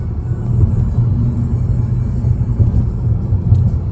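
A car on an American road, driving a short trip to a shopping mall, gives a steady low rumble of engine and tyre noise that holds even and continuous throughout, with no talk over it.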